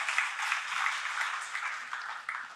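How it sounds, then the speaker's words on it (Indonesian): A church congregation applauds during a sermon, a soft, fairly distant wash of clapping that holds steady for a couple of seconds. "Kita berikan tepuk tangan buat Tuhan yang luar biasa"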